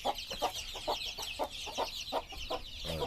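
Caged chickens cluck in a rapid run of short calls close by, with a busy chatter of other birds in the background and no talking.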